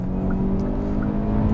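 A new Hyundai Avante sedan with a CVT and about 123 hp, its engine revving at high rpm, a loud steady drone with stacked harmonics heard close from inside the cabin, with no one talking.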